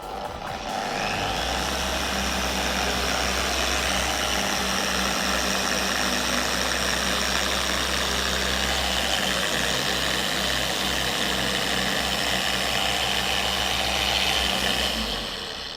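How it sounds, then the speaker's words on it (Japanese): A 5-inch Astro Products double action polisher runs in a garage, giving a steady, continuous close whir with a low hum that holds evenly for the whole stretch before easing off at the end. "こちらが アストロプロダクツさんから出てるダブルアクションポリッシャーですね"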